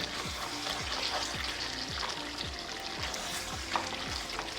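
Rhythmic scraping strokes of a spoon stirring thick beef curry in a pan, repeating about twice a second over a low constant sizzle.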